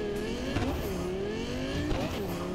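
Engine revving from a sleek Audi-like car in the video game Cyberpunk 2077, a steady loud drone with rising and falling pitch sweeps, a couple of quick throttle surges, no talking.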